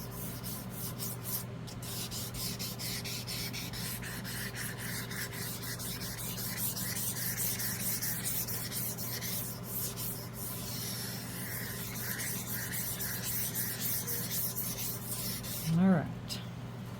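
Resin being wet sanded by hand with sandpaper, a steady continuous scrubbing rub that runs throughout at an even level, with a short louder knock near the end.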